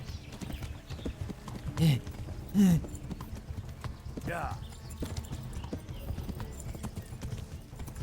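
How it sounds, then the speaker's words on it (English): A horse gallops at speed in the medieval video game Kingdom Come: Deliverance, its rapid hoofbeats drumming steadily and close, with brief louder thumps and shouted voices over the pounding. "Faster, horse. Faster."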